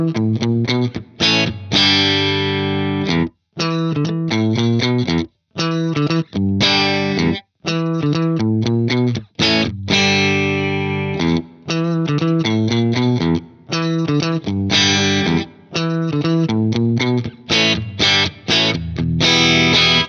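An electric guitar with reverb switched back on plays a continuous run of bright notes and chords, loud and close, with a spacious wash trailing each note.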